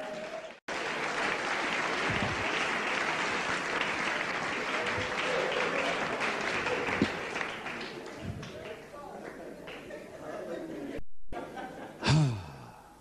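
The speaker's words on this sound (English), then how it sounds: "Clap your hand" Sustained applause from a church congregation during an archbishop's sermon, broad and steady for several seconds, then fading with scattered claps and a few voices near the end.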